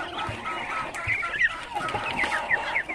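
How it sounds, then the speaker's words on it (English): A rooster clucks and chatters on a Muscovy duck farm, with repeated short calls over a busy background of other fowl and farm birds, fairly close and steady. "This is not a duck, this is a rooster."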